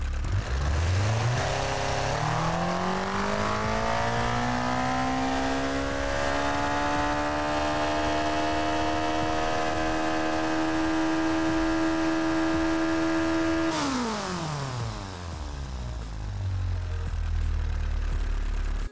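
A car engine in BeamNG.Drive revs up steadily to a high, strained whine, struggling at the top of the rev range, holds there for a long stretch, then drops sharply back to idle.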